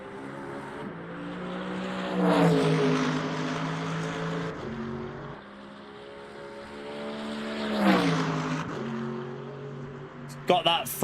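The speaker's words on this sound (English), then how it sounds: "let's go and listen to the Mercedes. See what the Mercedes sounds like on the replay camera." Mercedes race car in the Le Mans Ultimate racing game, heard from replay cameras: a throaty engine rising and falling in pitch as the car accelerates, shifts gears and passes twice, loud and close.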